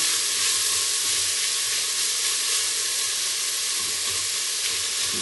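Salted onions sizzling loudly in a pan while being stirred, a dense steady hiss filling the whole stretch at close range with no break and no talking.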